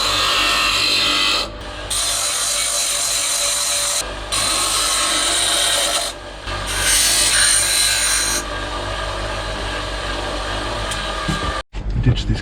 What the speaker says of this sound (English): I'm going to try and grind the edge to make it a bit narrower and grind that hook in the end